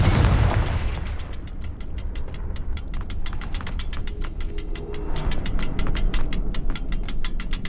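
A fire-spell explosion in the Hogwarts Legacy game opens with a loud blast, followed by a dense, rapid run of crackling bursts and pops that keeps going at high volume throughout.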